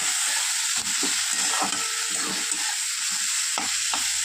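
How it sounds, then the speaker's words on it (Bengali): Turmeric powder fries in a pan with a steady, close sizzle, broken by a few soft scrapes and taps of stirring and no talk. "হলুদ গুঁড়ো দিয়েও একটু ভাজা ভাজা করে নেব"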